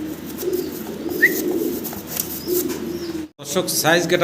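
A pair of pure white fancy pigeons in a large cage coo softly, low murmuring calls running steadily through the clip with a short chirp, while someone talks over them nearby.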